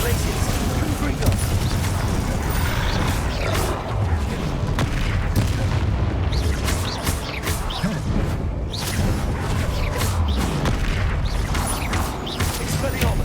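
Repeated Confringo fire-blast spells from the Hogwarts Legacy video game, loud dense booms and crackling bursts layered with whooshes and mechanical clatter running continuously through heavy combat.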